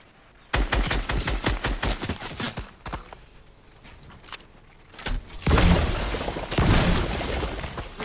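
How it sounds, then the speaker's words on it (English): Rapid automatic bursts in an online shooter game, a long run of sharp close shots, a pause with scattered single cracks, then heavier dense volleys near the end, loud and without talk. "Bro, stop shooting me, man."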